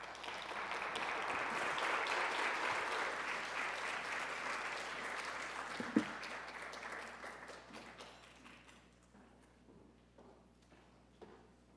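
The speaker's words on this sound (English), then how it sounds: "please join me in applauding all of our wonderful speakers" An audience applauds the speakers at a university graduate talks event, with steady, dense clapping that swells and then thins out and fades toward the end.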